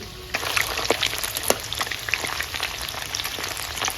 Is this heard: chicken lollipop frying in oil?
yes